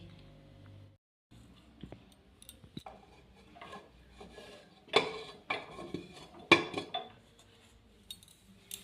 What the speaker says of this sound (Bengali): এবার প্রেশার কুকার থেকে কেকের বাটিগুলো আস্তে আস্তে করে নামিয়ে নিচ্ছি